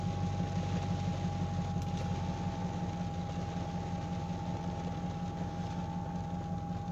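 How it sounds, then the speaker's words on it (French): A steady, close idle from an Audi A8 engine with a deep, gruff truck-like drone and a constant hum, unchanging throughout. "Avec son bruit de camion, hein."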